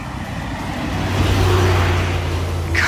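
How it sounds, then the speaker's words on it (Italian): A FedEx delivery truck passes by on a residential street, its engine rumble swelling to a peak mid-pass and then fading slightly, heard alone without any talking. "Il camion di FedEx che passa."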